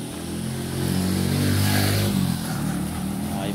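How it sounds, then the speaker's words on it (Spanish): A motorcycle on a rural path between Catarina and El Triunfo draws near with a rising engine drone, peaks loud and close, then eases off slightly as it moves past. "viene una moto por ahí, hágase para acá, porque viene una moto"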